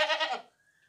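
A single goat bleat, close and fairly loud, wavering for about half a second before fading to near silence; the goat is being shown for its weight and teeth among fat goats and rams for sale.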